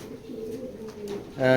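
Young black racing pigeons coo softly nearby, low throaty calls rising and falling, with a louder coo at the end.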